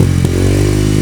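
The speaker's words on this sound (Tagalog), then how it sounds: "Ito ang tunog ng calcal pipe mga boss." A motorcycle fitted with an aftermarket kalkal exhaust pipe revs loudly and close up in a short, harsh, rattling burst.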